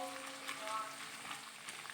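Onions and spices such as galangal, lemongrass, lime leaves and pandan fry in a pan for Acehnese grouper stir-fry, a soft, steady sizzle with faint clinks, fairly quiet throughout.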